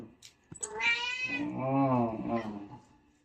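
Pet cats meowing at a 5 a.m. morning feeding, a couple of drawn-out, wavering meows close by, one rising then falling, with soft background noise and no talking.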